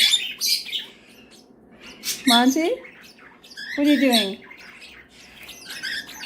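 A baby cockatiel gives bright chirps and two loud, harsh squawks close by, while a person speaks briefly near the start.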